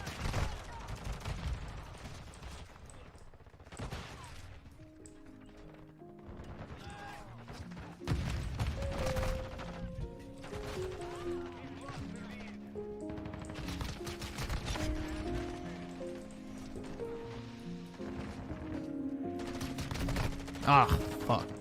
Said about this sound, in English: This gun has a pretty slow fire rate, which is unfortunate.